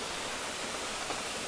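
The Mae Sapok Waterfall cascade in Chiang Mai gives a constant, broad rushing roar of falling water, close and steady throughout.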